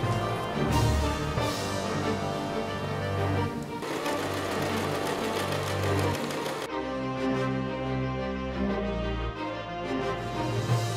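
A sewing machine runs steadily while stitching straight lines, its motor hum continuous and fairly loud throughout, with a brief shift in tone partway through and no talking.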